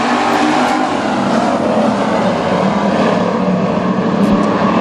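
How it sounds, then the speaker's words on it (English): WISSOTA street stock race cars roaring off at the green flag of a heat race at Granite City Speedway, a loud, continuous wall of engine noise from a pack of cars throughout. "The green out the final heat race this evening for the street stocks as they work their way down the back straight"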